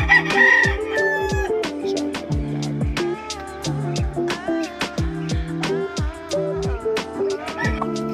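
Hens and a rooster at a laying nest, with busy clucking and crowing calls repeating in close succession, loud and near throughout.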